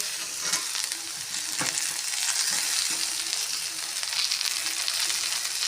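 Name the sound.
sautéing tomatoes with ginger garlic paste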